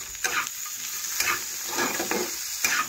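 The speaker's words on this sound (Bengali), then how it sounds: "তো আগে আমি হলুদ গুঁড়োটা আলুর সাথে নাড়াচাড়া করে মিশিয়ে নিচ্ছি।" Potato pieces coated in turmeric powder stirred in a pan, with a steady soft sizzle and several close scraping strokes of a spatula at irregular intervals.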